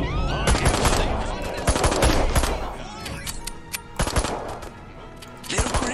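Gunfire in the video game Destroy All Humans: dense, loud rapid-fire shots and explosion-like crackles fill most of the stretch, with in-game sound effects layered over them.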